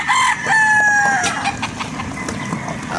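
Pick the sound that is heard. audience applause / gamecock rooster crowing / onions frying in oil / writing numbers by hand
gamecock rooster crowing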